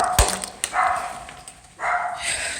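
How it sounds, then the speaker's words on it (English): A neighbor's dog in an apartment barks several times, sharp close yips and barks scattered over a couple of seconds with whining tones between them. "My neighbor has a dog that needs to be in a crate."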